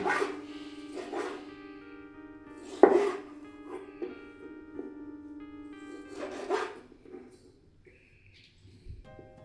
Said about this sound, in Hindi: इस तरीके से टमाटर काट लेने हैं।